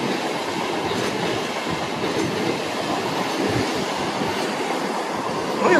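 A train in Germany rumbles past steadily, wheels clacking on the rails in a continuous, fairly loud roar with faint squeals.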